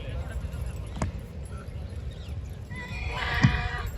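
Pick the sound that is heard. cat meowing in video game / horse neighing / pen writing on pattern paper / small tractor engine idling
horse neighing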